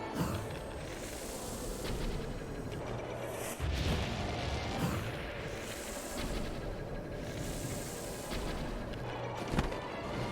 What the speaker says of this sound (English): Now go blow those cannons.